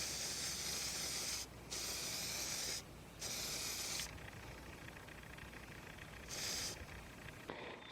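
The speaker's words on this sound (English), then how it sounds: "I like to spray the gasket as well as the surface. So there's a lot of copper particulates." Copper gasket spray hisses out of an aerosol can onto a water pump gasket during a 2001 Kia Sportage repair, in several close bursts of bright hiss separated by short pauses, and no one talks.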